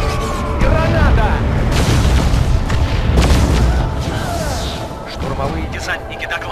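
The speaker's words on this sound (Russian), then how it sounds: "Граната!" A grenade blasts in Warhammer 40,000: Dawn of War II – Chaos Rising, a booming explosion amid dense battle noise with sirens and gunfire, loud and sustained throughout, with voices talking over the mix.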